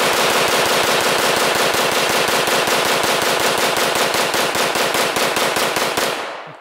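Rapid automatic gunfire from a 50-round pistol in a video game, a long unbroken burst of fast, evenly spaced loud shots lasting about six seconds before cutting off abruptly.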